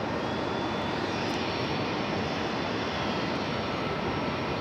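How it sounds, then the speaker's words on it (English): A 19-year-old JetBlue Airbus A320 bound for Montego Bay from JFK airport produces a steady, broad jet engine roar that holds evenly throughout, loud and unbroken. "It's a 19-year-old A320."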